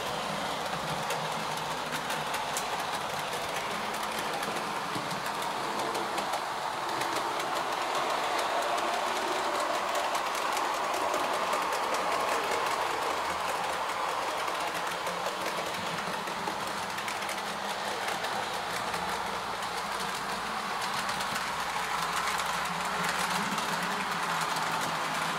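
A Bachmann 4CEP model train runs smoothly along its track with a steady, close rolling whir and faint rhythmic clicking from the wheels, held at an even level throughout and heard alone.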